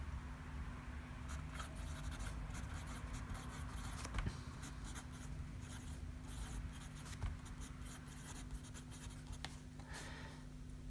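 A fountain pen writes on Spirex student lecture pad notepaper, giving a soft, continuous scratching of the nib across the page, close and quiet over a low steady hum.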